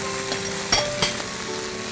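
Bread soaked with curd frying among browned onions in a pan, a steady close sizzle with two brief scraping clinks of a spoon partway through, no voices.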